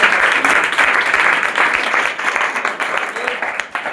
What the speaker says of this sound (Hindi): बहुत बढ़िया सर, एक बार जोरदार तालियां